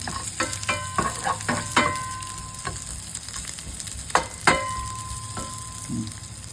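Garlic sautés in a home pan for a Filipino sampalok stew, giving a steady close sizzle broken by several scraping stirs of a utensil, with no talking.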